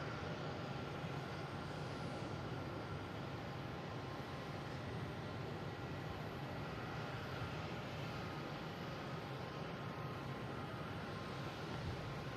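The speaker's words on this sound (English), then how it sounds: "we have a Delta landed right away, coming in from Salt Lake City. A321neo." A Delta Airbus A321neo airliner landing at Boston Logan from Salt Lake City, heard as a faint, steady distant jet rumble holding level throughout with no voices.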